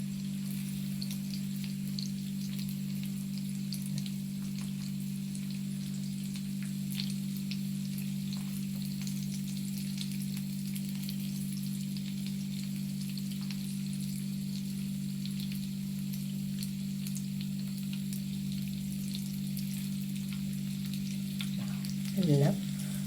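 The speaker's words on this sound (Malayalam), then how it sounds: "കണ്ട പൊരിയുന്നുണ്ട്" Chicken satay frying in a pan, a steady close crackling sizzle under a constant low hum, with faint scattered pops and a brief clatter near the end.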